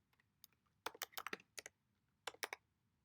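Short bursts of clicking keystrokes on a computer keyboard as a postcode is typed, two quick clusters of light taps, close and quiet with near silence between them.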